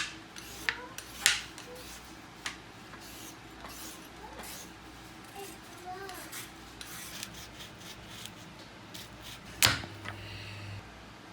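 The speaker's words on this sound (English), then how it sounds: "I'm going to be cutting, grating, and peeling carrots" Carrots being cut, grated and peeled, with intermittent dry scraping and rasping strokes punctuated by a few sharp clicks, close by and moderately quiet, with no talk.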